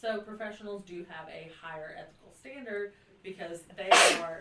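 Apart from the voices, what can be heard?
human sneeze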